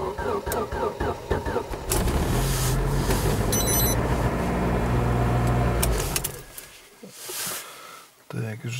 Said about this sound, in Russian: я завожу правильно машину в мороз